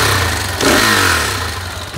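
KTM SMC R 690 motorcycle engine revving up from idle, a loud close rumble that swells sharply partway through and holds steady, with no talk over it.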